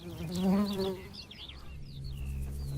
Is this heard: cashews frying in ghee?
no